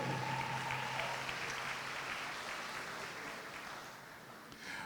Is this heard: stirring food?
no